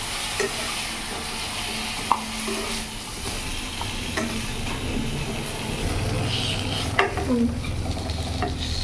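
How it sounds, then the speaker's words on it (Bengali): Ridge gourd sizzles gently in ghee in a kadai, with cumin, bay leaf and dried chilli tempering, while a spatula stirs and scrapes, a steady soft frying hiss broken by occasional clinks. "আমি কিন্তু একদম বেশি ভাজিনি, একেবারে হালকা শ্যালো ফ্রাই করেছি ঝিঙেটা।"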